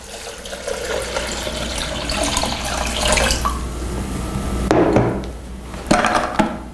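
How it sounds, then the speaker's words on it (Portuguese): Filtered water, about one litre, pours into a blender jug in a continuous stream, followed by a couple of sharp knocks and clatters near the end. "Vou vir aqui com 1 litro de água filtrada."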